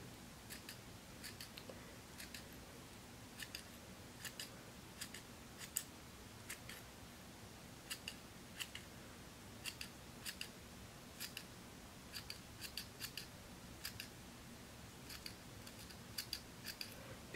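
Small scissors snip again and again while trimming a muddler fly at a 45-degree angle, giving quiet, crisp clicks in short irregular clusters over a faint, still background.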